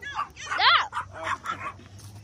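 A Pomeranian gives a few quick, high yips and short barks up close, with a person speaking between them.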